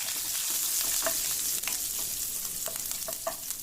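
Fennel, cumin, chopped green chili and curry leaves fry in hot oil with a loud, even sizzle, with a few spoon taps against the pan and no voices.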